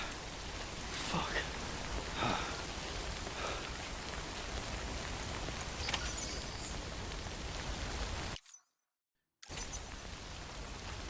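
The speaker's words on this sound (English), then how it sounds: "because the rain is loud" Heavy rain in the video game Death Stranding makes a constant hiss of falling water at moderate level. It drops into a second of silence, then the rain returns.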